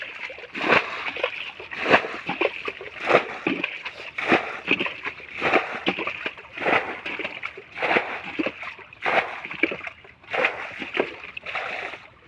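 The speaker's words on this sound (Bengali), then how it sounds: "এখন আর একটু জল ফেলে নিতে হবে" Water sloshes and splashes in repeated scoops as it is bailed out of a village canal during fishing, each throw arriving roughly every second in a steady rhythm, close and moderately loud, with no talking.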